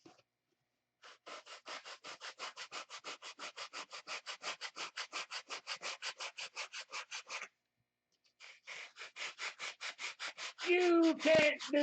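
Wood is drag-sanded with long even back-and-forth strokes, a steady rhythmic rasping close by, pausing briefly before the strokes resume and a voice speaks over the end.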